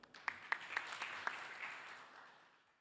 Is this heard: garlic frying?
no